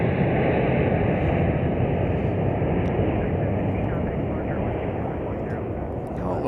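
A United Airlines airliner takes off from Chicago O'Hare, its broad, steady jet roar filling the air loudly and continuously before easing off slightly toward the end.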